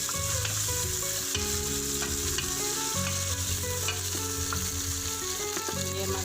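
Steady sizzling of garlic, ginger and onions frying in a hot pan, with occasional stirring scrapes, continuous and fairly loud, no talking.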